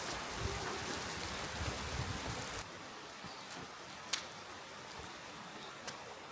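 Heavy rain at Lingshan Temple on a mountain in Sichuan, a dense hiss of falling water that drops to a lighter patter partway through, with a few sharp drips standing out.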